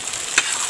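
Chopped onions tipped into hot oil in a pan with chicken for an Assamese chicken dish give one brief, sharp sizzle burst that settles back into a soft, steady frying hiss.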